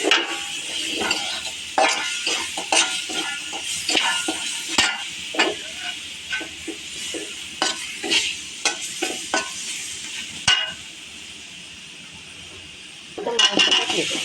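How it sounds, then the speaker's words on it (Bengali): Spice masala with ginger paste is stir-fried in a pan, with repeated spatula scrapes and clinks over a soft sizzle in an irregular rhythm. It goes quiet briefly near the end before stirring resumes, and a voice speaks in between. "মশলাটা ভালোভাবে কষিয়ে নেব। আদা বাটা দিয়ে দেবো।"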